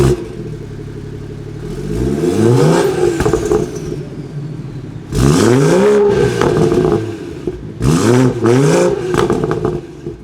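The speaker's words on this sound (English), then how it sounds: "I'll cut over to the exhaust clip so you can see how it sounds" A Gen 1 BMW B58 inline-six exhaust while driving, rising in three loud revving pulls with climbing pitch, each easing off between, with no talking.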